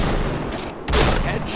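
A grenade blast in the shooter game Point Blank lands as a sudden loud boom about midway, set against a busy backdrop of continuous gunfire and battle noise.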